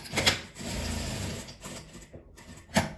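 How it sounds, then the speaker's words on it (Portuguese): A sewing machine stitches around the edge of a patchwork fabric scrap for a small felt-structured keychain pouch, running in one steady mechanical whir for about a second between quieter handling sounds and a brief clack near the end. "Esse daqui eu vou costurar em volta dele todo, na hora de estruturar."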